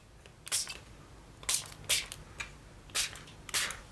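About six short, crisp hissing bursts from a small foot-spray bottle misting onto paper for coffee and tea art backgrounds, each spray quick and close with brief pauses between.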